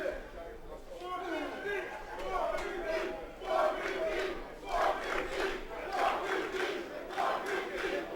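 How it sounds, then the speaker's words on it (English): A pro wrestling crowd at a live indoor show chants and shouts in rising waves, loud and dense, while a commentator talks over the noise throughout. "Crowd trying to get behind 450."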